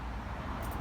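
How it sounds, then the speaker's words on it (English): Road traffic rumbles past outside a residential driveway, a steady, moderately loud wash of car noise. "It's a lot of traffic outside."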